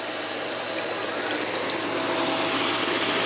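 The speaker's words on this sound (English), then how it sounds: "Now I'm going to add my water." Water is poured into a hot pan of browned taco meat, giving a steady loud sizzle and hiss that holds for several seconds with no talk.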